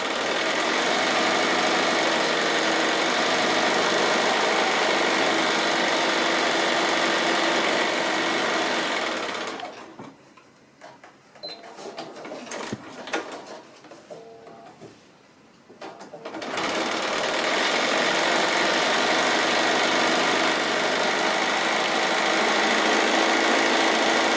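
Sewing machine chain piecing a half rectangle quilt block, a loud continuous whirring stitch that runs for about ten seconds, pauses briefly with small clicks and handling, then resumes steadily.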